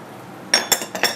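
Metal utensil clinks against a frying pan as sugar and butter go in to caramelize mirabelle plums in a restaurant kitchen: four short, close clatters after a quiet moment.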